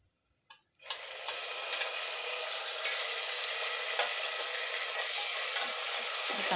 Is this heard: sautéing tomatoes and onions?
yes